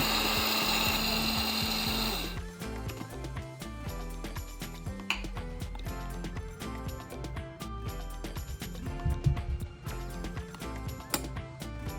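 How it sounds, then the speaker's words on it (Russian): A brief high-pitched electric whir at the start, then irregular rattling and clattering of whole spices and turmeric tumbling inside an electric coffee grinder, close and fairly loud. "Перемешиваем в кофемолке."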